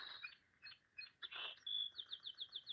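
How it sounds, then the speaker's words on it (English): A song sparrow sings a series of bright, high chirps and trills, starting with scattered notes and ending in a quick, rhythmic run of repeated phrases, fairly faint and heard on its own. "So all song sparrows have a song like this."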